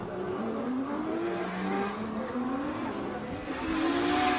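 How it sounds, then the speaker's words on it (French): A Subaru BRZ drift car in competition, its engine wailing and shifting pitch at a distance, mixed with sustained tire squeal. Track noise and faint commentary sit underneath, and the engine swells louder near the end. "Cette fois, avec la BRZ qui va partir devant, Yvon Buisson qui va devoir suivre."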